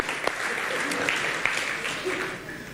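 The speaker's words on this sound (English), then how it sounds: "why don't you give them a round of applause" An event audience gives the organizers a round of applause, a steady wash of clapping from a crowd at moderate distance, holding evenly throughout.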